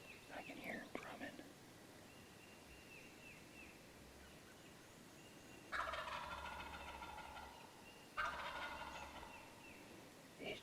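Wild turkey in spring woods: two loud bursts of gobbling a few seconds apart stand out over quiet ambient hiss, with faint low drumming and soft background whispers.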